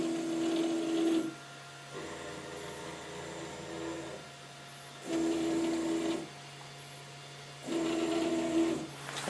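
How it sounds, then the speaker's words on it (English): An Up! Mini 3D printer with a new rod design drives its axes in three loud bursts of steady motor whine with a tonal buzz, separated by quieter stretches of softer mechanical hum. "I'm going to try just move the printer as I normally do. So moving the printer works"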